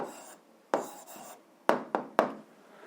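Pen strokes on paper while an answer is written down for an 8th-grade algebra exercise, several short scratchy bursts in quick succession with brief pauses, close and fairly quiet, no talking.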